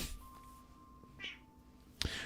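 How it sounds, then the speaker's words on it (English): A single faint, short cat meow, soft and close, with a few small clicks and a sharp knock near the end. "Meow, says the cat."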